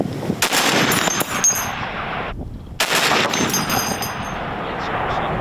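Loud bursts of machine gun fire from a remote-controlled Shablya robotic turret crack out in a few sharp single shots, with a brief silent gap midway before firing resumes.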